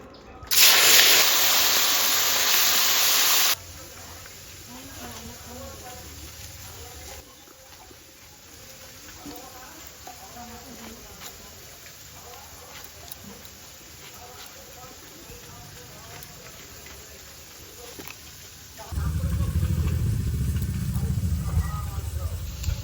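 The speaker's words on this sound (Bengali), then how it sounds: "এই দিয়ে তেল গরম হয়ে গেছে, এখন মাছগুলো ভেজে নেবো" Fish frying in hot oil gives a loud, steady sizzling hiss for a few seconds, then fades under a stretch of talking before a strong sizzle returns close by at the end.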